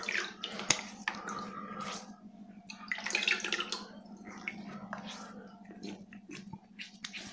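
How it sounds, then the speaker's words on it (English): Water splashing and dripping as a face is rinsed during a shave with a Wilkinson Sword Protector 3 razor, a run of close wet splashes and drips over a low steady hum, with no talking. "I'm just rinsing my face."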